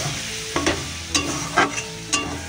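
Onion with salt, turmeric and chilli powder fries in a pan. A loud, steady sizzle is broken every half second or so by a spatula scraping and stirring, close up.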